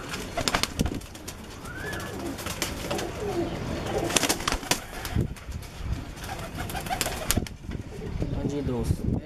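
Pigeons at a pigeon club coo repeatedly close by, their soft throaty calls mixed with wing flaps, handling noise and intermittent talking.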